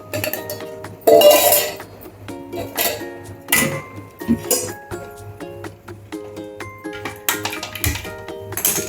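Steel pots and utensils clink and tap while rasam is strained into a bowl in a home kitchen, sharp metallic knocks and rings scattered irregularly at close range.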